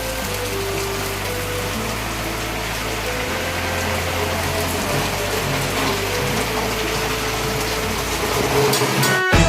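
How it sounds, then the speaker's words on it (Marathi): Heavy rain pours down in a village yard during May, a dense, steady hiss that fills the whole clip, with a low mechanical hum pulsing beneath it. "तर पाऊस पाणी पडायला लागले इतकं जोरात पाऊस पडतोय"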